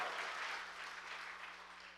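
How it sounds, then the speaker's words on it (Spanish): A church congregation applauds loudly, a continuous even wash of many hands clapping with no voices standing out, holding steady over the short stretch. "A loud round of applause."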